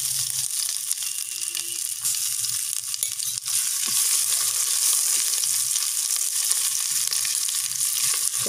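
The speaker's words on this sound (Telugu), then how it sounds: "సో వీటిని కొంచెం వేయించుకోవాలి మనం" Shahjeera, bay leaves and ginger-garlic paste fry in a pan with a continuous close sizzle and hiss, broken by a few soft scrapes of stirring, and no talk.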